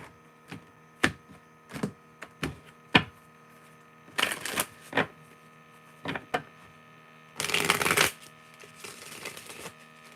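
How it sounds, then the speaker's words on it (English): Several quick riffling bursts of cards being shuffled, short flicks followed by longer cascading riffles, close and clear with quiet gaps between. "how I'm shuffling these cards."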